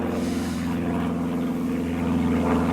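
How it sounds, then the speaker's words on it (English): A propeller aeroplane passes overhead on a countryside trek near Pateley Bridge in Yorkshire, its steady droning hum holding loud and continuous throughout with no talk. "It's an aeroplane."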